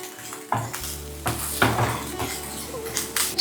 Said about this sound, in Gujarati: સારી રીતે એને ચલાવી લઈએ.